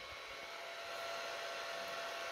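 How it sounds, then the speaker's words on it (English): A Creality Ender 2 Pro 3D printer runs a print, giving off a steady, smooth whirring hiss of fans and motors that stays even and fairly soft throughout, with no talking. "I got a new printer. This is the Ender 2 Pro."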